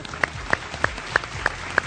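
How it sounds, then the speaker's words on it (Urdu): Studio audience at a Pakistani Defence Day talk show clapping in a quick, even rhythm of six sharp claps over two seconds, close and clear. "میں تالیاں بجا دیں"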